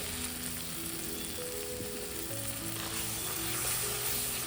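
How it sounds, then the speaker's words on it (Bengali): A ground paste of ginger, garlic and pepper sizzles continuously in a hot pan, a dense steady frying hiss with occasional stirring scrapes, close and alone without talk. "এই মশলাটা খুব ভালো করে কষিয়ে নেব"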